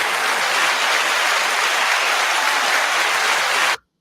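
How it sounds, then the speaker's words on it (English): A steady, dense wall of applause holds at an even, loud level with no talking, then cuts off abruptly near the end. "Round of applause for us as black people."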